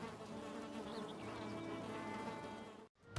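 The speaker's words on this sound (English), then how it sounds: "it should say the bees are happy, and as long as they're happy, they're going to produce honey" Bees drone steadily around a beehive in the video game Valheim, a continuous close buzzing that cuts out briefly near the end before a low thump.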